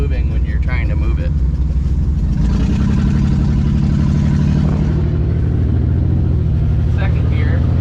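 Toyota 4Runner truck engine running as it starts to move, a steady mid-pitched engine hum with some revving, near and loud, with someone talking over it.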